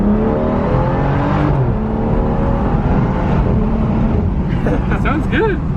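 BMW 440i coupe engine revving hard under full throttle from inside the cabin, a loud rising whine and roar that climbs steadily, with voices in the car.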